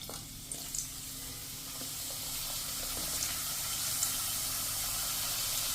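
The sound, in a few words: potato wafers frying in hot oil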